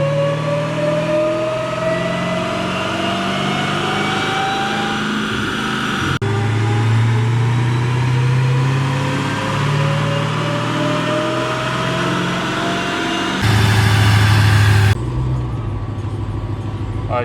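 A boosted car running a 280 pulley on 91 octane fuel revs hard on a dyno, the engine climbing steadily in pitch through a long loud pull, with abrupt shifts in tone near the end.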